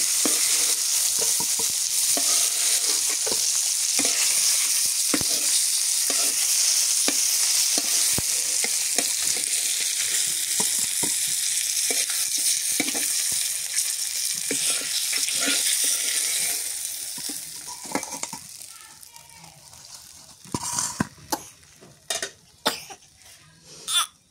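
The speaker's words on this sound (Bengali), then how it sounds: "মাছ ভাজা হয়ে গেছে" Fish seasoned with salt and chili fries in a pan with a loud, steady sizzle for most of the stretch, then quiets down, leaving scattered clinks and scrapes.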